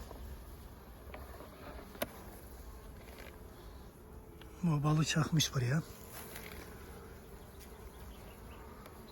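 Honey bees buzz at the hive in a constant, soft drone, while a voice speaks briefly over the hum midway through.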